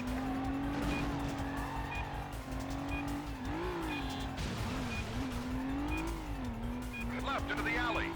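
A car in the Stuntman video game drives hard with a sustained engine drone that rises and falls. Tire squeals chirp through it, and someone talks over the action throughout.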